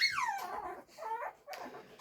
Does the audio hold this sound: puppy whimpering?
yes